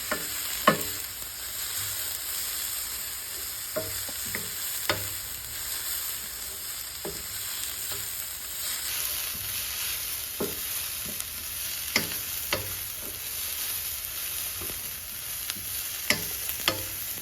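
Cabbage and carrot thoran with grated coconut stirred in a pan, a steady soft sizzle broken by repeated sharp scrapes and clacks of the spoon against the pan, close and alone with no talk.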